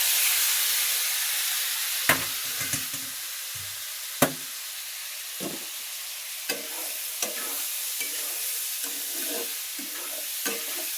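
Potatoes sizzling in a pan as they are stirred, a constant hiss of frying broken by sharp utensil knocks and scrapes every second or two, close by with no voices.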